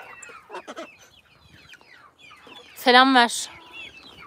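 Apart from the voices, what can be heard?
young chicken hatched from an incubator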